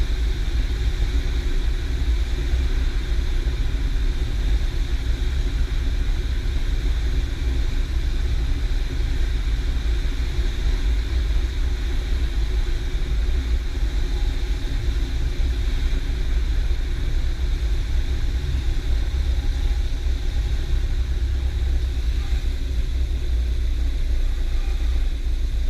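A light aircraft engine drones continuously during a touch-and-go landing approach, a steady close rumble mixed with broad cockpit and wind noise, without any clear change in power.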